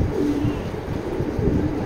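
A restless loft pigeon gives low, soft coos, a couple of rolling phrases close by over a steady background hum.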